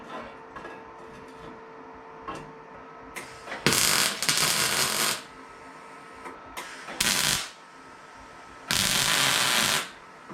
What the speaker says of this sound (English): first piece tack welded up.